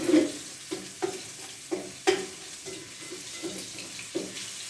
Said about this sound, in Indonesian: Untuk menggoreng bawang merah bawang putih 2 loyang